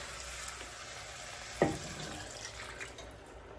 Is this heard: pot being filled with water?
yes